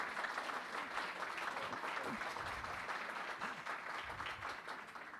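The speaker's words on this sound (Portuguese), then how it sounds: "salva de palmas para..." Audience applause at a literary showcase: sustained clapping from a roomful of people, fairly distant and even, tapering slightly toward the end, with faint voices mixed in.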